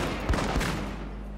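Rifle fire from monk units in Shogun 2 battle: a crackling volley of two quick close shots over a steady rumbling battlefield din, moderately loud.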